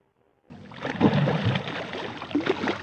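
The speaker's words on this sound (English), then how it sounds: "Fish, splosh." A fish splashes in water with a sudden burst of sloshing and spattering that carries on steadily for a couple of seconds, close and fairly loud.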